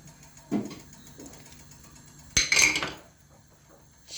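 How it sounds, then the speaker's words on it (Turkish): Spoon clinks against a pot while salep, sugar and vanilla are mixed into milk for homemade ice cream: a single sharp metallic tap, then a louder clatter and brief scraping stir, amid quiet kitchen background. "şekeri ve vanilya ekleyip karıştırıyoruz"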